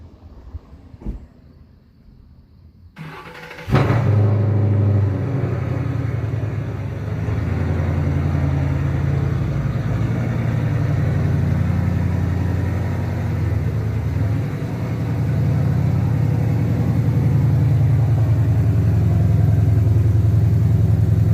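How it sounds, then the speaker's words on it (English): A car engine turns over and starts after a brief quiet pause with a few clicks, then settles into a steady, close, rumbling idle that continues throughout as the car is pulled out on a sunny day. "I'm gonna pull the car out and do the rest of it"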